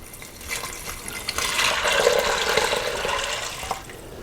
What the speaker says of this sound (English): And then I'm going to add my other 4 cups of water.